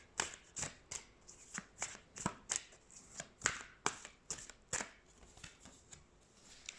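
Tarot cards are shuffled by hand in a rapid series of crisp riffling flicks and soft slaps, close and fairly quiet, with no voices.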